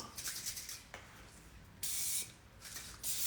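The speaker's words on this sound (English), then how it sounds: "I'm just gonna spray it with a little bit of oil" Short bursts of hissing cooking oil spray onto a hot pan, about four pumps, separated by quiet gaps.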